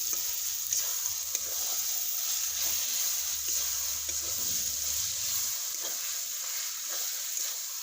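Chicken with mango leaves and spices fries in a pan, a steady close sizzle throughout with scraping and shuffling as the pieces are stirred.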